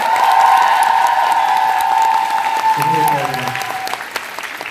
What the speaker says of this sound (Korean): 저희 94일 동안 한 번도 빠지지 않고 최선을 다해서 해준 배우들께 다시 한번 큰 박수 부탁드립니다!